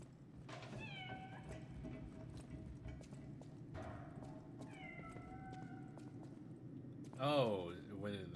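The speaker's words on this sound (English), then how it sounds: "There's a cat!" A cat in the video game Lies of P gives several distinct meows, spaced a few seconds apart over steady ambient clatter, with a louder, wavering cry near the end.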